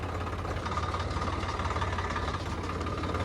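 A Swaraj tractor's diesel engine runs steadily close by, a low throbbing idle with a continuous knocking pulse and no talk.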